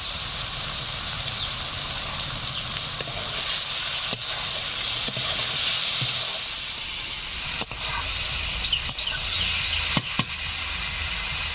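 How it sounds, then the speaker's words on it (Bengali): Green chilli, cumin, salt and turmeric sizzle steadily in a hot pan for a village-style papaya dish, a spatula stirring through them with occasional light scrapes over the constant hiss. "সব কিছু দিয়ে নাড়াচাড়া করে নিয়েছি।"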